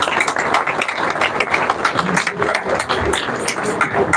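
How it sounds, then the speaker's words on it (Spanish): Audience at a Spanish-language book launch for a police publication applauds steadily, a dense wash of many hands clapping in a continuous roar for a few seconds, with no break. "Un agradecimiento, un aplauso por favor para esa Clarita que lo escuche desde acá en el cielo."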